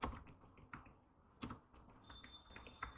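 HTML code being typed on a computer keyboard, a few crisp, close key taps in a short uneven sequence, quiet and with no voice.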